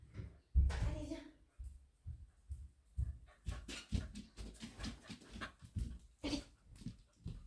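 A dog whimpers, yips and pants in short, uneven bursts close by, while a person speaks and coaxes it between the sounds.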